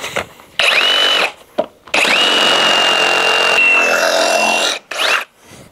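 An AEG 18V cordless reciprocating saw cuts slowly through double LVL timber in loud, sustained bursts with a whining motor, stopping briefly between cuts and ending with a short final run.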